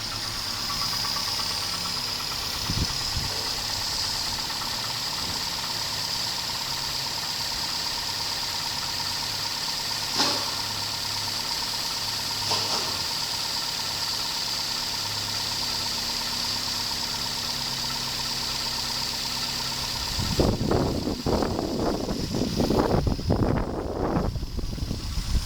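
A 2000 Dodge Neon engine with 57,098 miles, idling during an engine test at an auto wrecking yard: a steady, even hum throughout, with rougher bursts of noise near the end.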